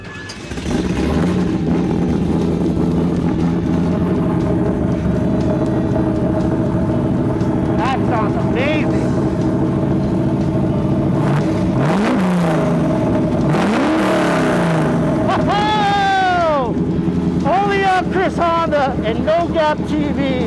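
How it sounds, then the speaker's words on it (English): A 1971 Chevrolet Camaro SS engine gives a loud, steady rumble with rising revs and throaty exhaust bursts, recorded close up beneath the exhaust, with occasional voices in the background. "We're going to put the microphone right underneath the exhaust so we can hear this."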